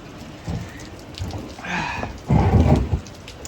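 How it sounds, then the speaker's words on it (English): Heavy rain pours down steadily on a farm in a broad hiss, with low rumbling swells that rise and fall. No voices are heard. "it's raining quite hard"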